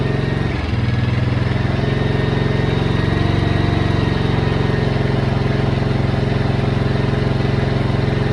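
A 1977 GL1100 motorcycle engine idles a little high, giving a loud, steady, close-up rumble with an even pulsing beat that holds unchanged throughout, with no speech.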